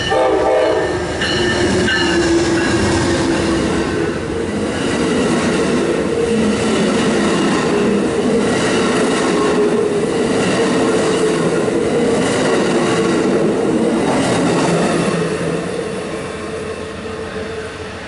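An Amtrak train led by a P030 locomotive passes close and loud, its heavy rumble and clattering wheels carrying a long blaring horn, before fading slightly at the end.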